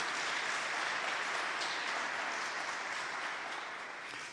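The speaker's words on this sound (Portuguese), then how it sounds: "Pode aplaudir, pode aplaudir," Audience applause at a talk on true devotion, dense sustained clapping from a crowd that stays full and even before easing slightly at the end, moderately distant, with no speech over it.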